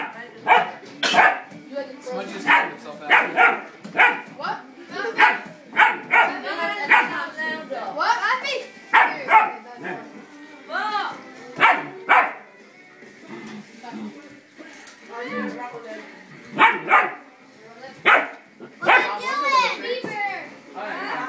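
A German Shepherd puppy barks and yips repeatedly in sharp, close bursts, some high and whiny, over a stretch of about twenty seconds.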